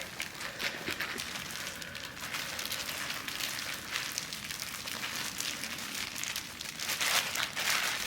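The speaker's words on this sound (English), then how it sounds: "I'm going to smush some more. And I will start to feel the dough separating from the plastic bag." Bread dough being kneaded and squished by hand inside a plastic bag, a continuous close crinkling and rustling that swells slightly toward the end.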